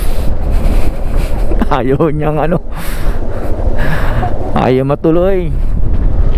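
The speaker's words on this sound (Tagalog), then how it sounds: "Lakas kasi ng hangin." Strong seaside wind at San Nicolas, Pangasinan buffets the microphone in a steady, loud roar throughout, while people talk over it in short bursts.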